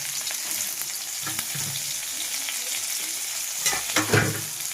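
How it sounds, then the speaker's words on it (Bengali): Chopped onion sizzles in hot oil in a wok, a loud, steady frying hiss with crackles and a stronger burst of spattering near the end. "এবার আমি কেটে রাখা পেঁয়াজটা কড়াইয়ে তেল দিয়েছি, তেলে দিয়ে দেবো, তেল গরম হয়ে গেছে।"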